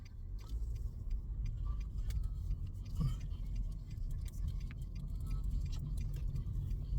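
Car driving along a road past construction, a steady low rumble of engine and tire noise filling the whole stretch with faint ticking on top and no talk.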